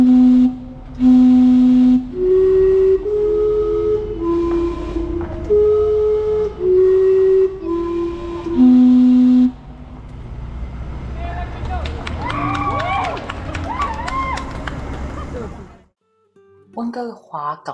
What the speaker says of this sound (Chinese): 而最著名的就是这个蒸汽钟，每15分钟就会鸣笛。